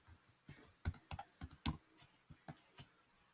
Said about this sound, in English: let's just type in a user